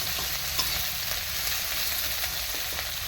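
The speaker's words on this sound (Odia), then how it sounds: "ପିଆଜଟାକୁ ଭଲ ଭାବରେ ଆମେ ଭାଜିଦେବା।" Onion fries in a pan before ginger-garlic paste and fish go in, producing a dense, continuous hiss and crackle close by, with a low hum running underneath and no voices.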